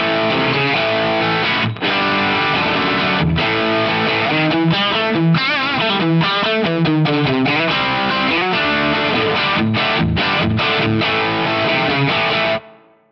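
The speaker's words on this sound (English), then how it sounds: "we're on the Compulsion Distortion" Electric guitar played through a Compulsion Distortion drive pedal amp model, a loud, saturated riff of sustained chords and stabs with short gaps, running alone for about twelve seconds before cutting off.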